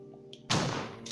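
A single gunshot in Resident Evil 1, fired by Jill Valentine at a zombie, cracks out sharply midway through an otherwise quiet moment and decays quickly.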